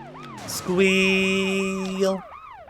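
A police siren wails in Scarface: The World Is Yours, rising and falling in repeated sweeps, while a steady blaring horn-like tone sounds over the middle of the clip.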